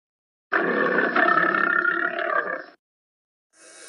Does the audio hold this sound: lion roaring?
yes